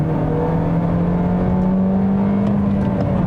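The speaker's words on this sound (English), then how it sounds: "Rev matching in a Corolla." Engine of a 2021 Toyota Corolla Apex with a manual gearbox revving up through a rev-matched downshift, a steady droning note that climbs in pitch, loud and close throughout with no talking.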